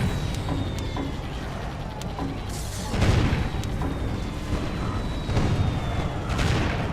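Gun tower fire in the Defense Grid tower-defense game, deep booming shots thudding at irregular intervals over a constant mechanical game hum, with heavier blasts clustering near the middle.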